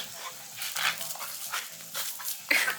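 Two water-loving dogs yip and bark in short excited bursts in a garden, mixed with whimpers and splashy noises, moderately close and fairly quiet.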